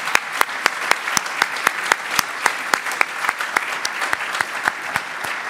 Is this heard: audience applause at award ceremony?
yes